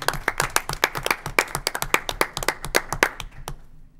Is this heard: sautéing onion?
no